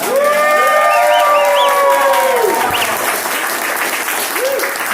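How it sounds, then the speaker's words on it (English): A lively crowd at a café event gives a loud, full round of applause with cheers and whoops rising over it, sustained for several seconds close by. "give a round of applause to Maz Cafe"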